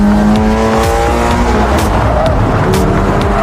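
A Toyota 86 sports car drives close by with a loud, steady engine note, its pitch shifting through gear changes, and a few sharp clicks and knocks cutting through the drone.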